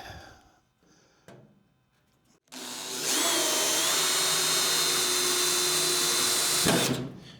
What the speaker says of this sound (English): So I think I'm just going to drill it.